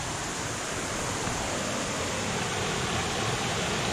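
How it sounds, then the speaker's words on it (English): A creek in a clear spring run flows steadily, a close, even hiss of rushing water with no pauses and no voices. "And there's the creek."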